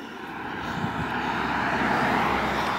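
Aircraft pass overhead at Edwards, a broad, steady engine roar that swells gradually, heard from a distance without any voices.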